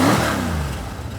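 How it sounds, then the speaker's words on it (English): An old American Ford engine revs up in a short, loud burst, its tone sliding down as the throttle eases off, heard alone and close by. "Sounds good for an old car."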